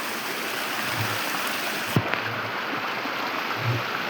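Water from a village spring pours steadily through a pipe, a constant close hiss and splash with a brief knock midway.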